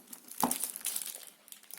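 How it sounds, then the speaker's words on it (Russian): Plastic packaging bag from a Xiaomi Redmi Note 4 global version unboxing crinkles in a few short, close rustling bursts with a sharper crackle near the start, no talking. "Так, убираем пакет в сторону."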